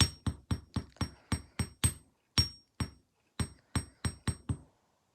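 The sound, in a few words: hammering metal earring pieces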